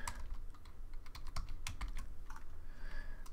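Rapid, irregular clicks of a computer keyboard as code is typed, with close, crisp keystrokes and short pauses, and no talking.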